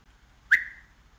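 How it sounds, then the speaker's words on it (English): A person whistling to call a pet, one short, clear, loud whistle note that sustains briefly and fades, alone in a quiet room. "let's see if he still knows when I whistle."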